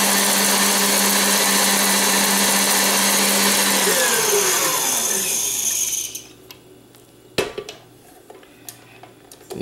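An electric mixer beats egg whites and sugar into meringue with a loud, close, steady whir for several seconds. It then winds down and stops, followed by a few sharp knocks of the beaters against the bowl.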